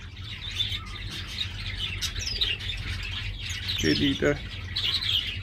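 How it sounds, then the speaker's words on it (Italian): High, thin chirps from a yellow-rumped star finch (Ruficauda) fledgling just out of the nest, scattered short calls over a low background hum, with a brief voice speaking partway through. "il primo pullo di Rufy Cauda, ovviamente codione giallo, uscito dal nido"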